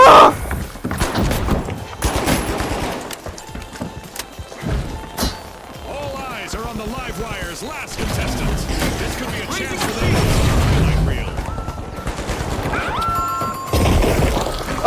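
Gas grenade explosions and crashing blasts in The Finals roll through a dense, busy mix, with booming impacts and clatter under excited talking.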